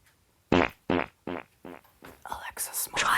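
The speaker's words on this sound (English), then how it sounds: "Here comes an echo fart." A smart speaker plays an echo fart sound effect: a string of four or five spaced, buzzy bursts that grow more reverberant and smeared, ending in a longer echoing tail, loud and close.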